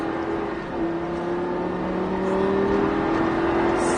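A Lamborghini Gallardo LP-560 V10 holds a steady, loud engine drone on a track, its pitch climbing slightly as the throttle is reapplied, with no talk over it.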